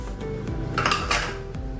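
Ragi flour, rice flour and semolina are measured with a small bowl and added to a mixing bowl for dosa batter, with close clinks and taps of metal bowls and utensils and a soft pouring rustle, with no talking.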